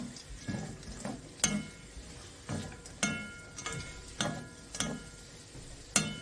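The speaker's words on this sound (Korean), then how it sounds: "시럽이 골고루 잘 묻도록 저어줍니다." Sweet potato chips stirred in a pan of bubbling syrup: a quiet series of separate clacks and scrapes roughly every half second, over a faint simmering background with no voices.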